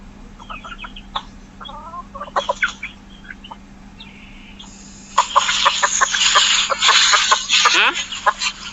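Chickens cluck on a rural farm in the provinces, with short clucks close by at first, then a busier, louder burst of overlapping clucking and squawks, while a voice speaks faintly.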